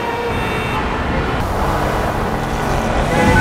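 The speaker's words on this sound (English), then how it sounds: "Rush hour in the city is truly something else." Busy rush-hour traffic on a Las Vegas city street, a steady dense roar of cars, trucks and buses passing close by, continuous and fairly loud with no voices.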